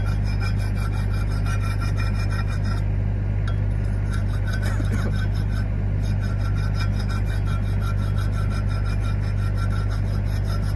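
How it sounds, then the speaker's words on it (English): Stick welding with 7018 rods on a steel T-joint produces a loud, continuous crackling sizzle over a steady low hum. It runs unbroken throughout. "I hope you enjoyed just watching me weld."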